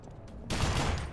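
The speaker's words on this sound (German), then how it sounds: "I have a light machine gun." Light machine gun fire in the video game Call of Juarez: The Cartel, a sudden loud burst of rapid shots that starts after a quieter lead-in and carries on to the end.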